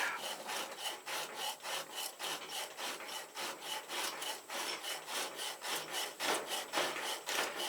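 Coarse 80-grit sandpaper rubs back and forth over a pipe in steady, rapid abrasive strokes, a continuous scratchy rasp with regular rhythm, close and fairly loud, with no talking.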